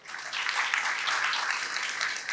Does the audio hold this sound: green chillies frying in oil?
no